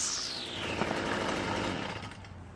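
A Stihl FS45 gas string trimmer, found in the trash and repaired, has a small engine whose whine falls away quickly and then settles into a soft, even idle close to the microphone.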